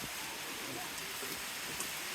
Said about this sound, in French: Mais la pluie ici alors nous empêche vraiment de bien filmer.